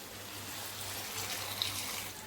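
Water pours into a cooking pot of butter chicken in a steady, even stream, a soft continuous splashing rush with one brief tick partway through.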